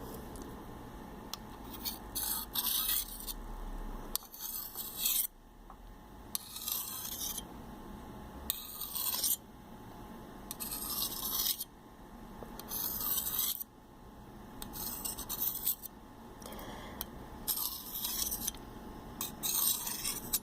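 A simple stainless steel knife blade scrapes and rasps in repeated close, crisp strokes with short pauses between them, quiet and intimate with no talking.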